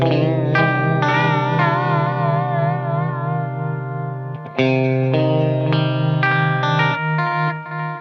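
Sustained electric guitar notes processed through a Source Audio Nemesis delay pedal with pitch shifting an octave below, thick layered tones, wavering chorus-like pitch and ringing trails between phrases.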